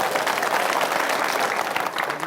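Audience at a televised Indian political debate applauding steadily throughout, a dense, continuous wash of clapping with some crowd murmur mixed in.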